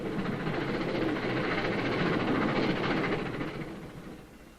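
A 1961 American passenger train rumbles past with a steady rolling roar and faint rhythmic clatter, loud at first, then gradually fading into the distance.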